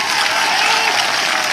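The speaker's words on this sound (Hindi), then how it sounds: "हरिनारायण जी के लिए एक बड़ा तालियां लगाइए।" A large crowd at a political rally applauding in a dense, continuous wash of clapping that stays loud and unbroken from start to finish.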